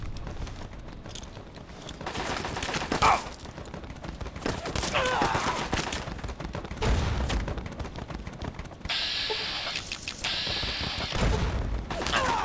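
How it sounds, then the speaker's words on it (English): Gunfire in Fallout: Tale of Two Wastelands crackles across a combat scene, scattered shots and short volleys at moderate distance mixed with mechanical clanks, under intermittent voices. "Who's shooting at me over there?"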